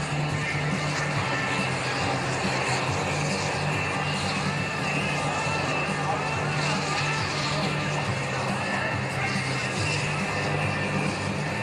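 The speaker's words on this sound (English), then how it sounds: "And the airplane starting up by us is at Tucano." An Embraer Tucano turboprop trainer runs up its engine nearby, giving a steady, fairly faint broadband roar and whine that holds throughout.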